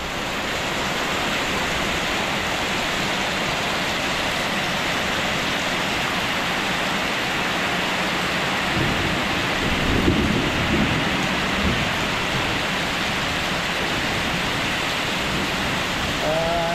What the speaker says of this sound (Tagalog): tinapot pa tuloy kami dito ng malakas na ulan